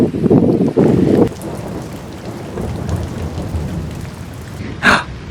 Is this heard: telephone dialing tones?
no